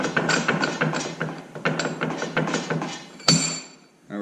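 A bench vise presses a trunnion cap out of a 6.0L engine part using a socket, with rhythmic ratcheting clicks in quick bursts, then one sharp metallic clank before the clicking resumes.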